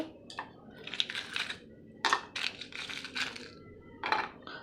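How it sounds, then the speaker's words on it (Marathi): Ice cubes clatter and clink as they drop into buttermilk in several quick bursts, close and crisp, with short pauses between. "बर्फ"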